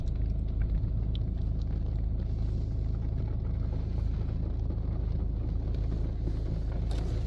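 A WashTec SoftLine 2 touchless car wash tunnel runs steadily, giving a continuous loud low rumble and spray-like wash with no breaks, heard alone from inside the car.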